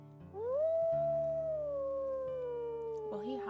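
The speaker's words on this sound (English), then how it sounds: "But we want to howl." Wolf in the game WolfQuest howling on a snowy day: one long, clear, rising-then-slowly-falling howl that sustains for about three seconds, close and prominent over a quiet game backdrop.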